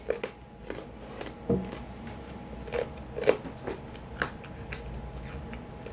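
Someone bites and crunches a cough drop, sharp close crackling snaps coming irregularly every second or so against a quiet background.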